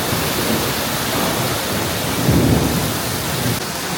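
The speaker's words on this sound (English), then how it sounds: "Let's take a minute to experience this heavy rain ASMR." Heavy rain pours steadily in a city street, a dense continuous hiss with a low rumble of thunder swelling in the middle before easing back into the downpour.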